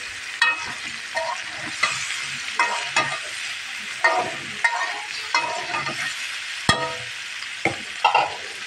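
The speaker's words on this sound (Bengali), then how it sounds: "পানি ছাড়াই আমি ভাজি করবো" Cauliflower and potato dry-frying in a pan with no water, a continuous sizzle broken by rhythmic scraping stirs roughly every second, close and clear with no talking.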